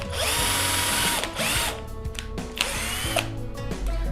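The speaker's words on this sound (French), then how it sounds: "on a pré-percé nos trous et on va pouvoir venir visser nos vis" A power drill pre-drills holes in old wood for a keyring holder, with two or three close, loud whining bursts separated by short pauses, the motor rising and slowing between holes.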